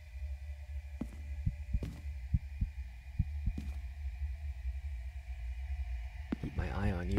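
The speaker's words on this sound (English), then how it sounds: "And I hear my heartbeat going." Rhythmic low heartbeat thumps pulse steadily under a constant hum and tonal drone in the horror video game Crimson Snow, with no voices over them.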